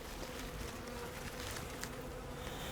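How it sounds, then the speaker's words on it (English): Honeybees swarm around backyard hives after being smoked, a dense steady buzz of many insects filling the air close by, with no voices. "So you can hear them buzzing, but they're going lower."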